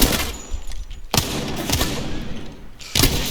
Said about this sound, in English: So he's firing at me.